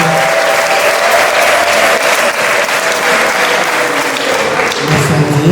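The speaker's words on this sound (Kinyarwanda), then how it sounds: "tumukomere amashyi y'umwami" A church congregation claps for the Lord in loud, sustained applause from a dense crowd, the clapping steady and full throughout, with faint voices mixed in.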